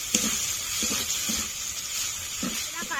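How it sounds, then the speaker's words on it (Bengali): Spices with a spoonful of turmeric powder sizzle in a hot pan while being sautéed for Bengali cooking, a steady close hiss with soft stirring scrapes coming through at intervals. "এক চামচ হলুদ গুঁড়ো, ভালো করে কষে নেব।"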